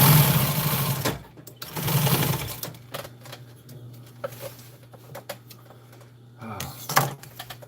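Sewing machine stitching across the bottom of a fabric storage bag for a truck, running in two loud bursts and then a shorter one near the end, with quieter handling noises and a low motor hum between them.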